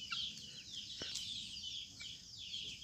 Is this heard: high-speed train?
no